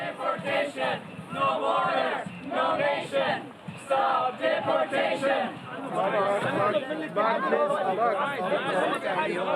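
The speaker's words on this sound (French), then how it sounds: "plus de 200 volontaires manifestent devant le camp fermé de Moria" Crowd of over 200 volunteers protesting outside the closed Moria camp on Lesbos, a loud, close mass of overlapping voices shouting and chanting in bursts, with continuous excited chatter throughout.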